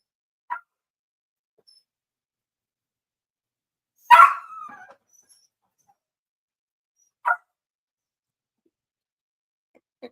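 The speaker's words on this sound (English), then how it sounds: "what breed of dogs are those?" Dogs give a few isolated barks and yips: one louder bark in the middle and shorter, fainter calls before and after, separated by long silences, with no talking.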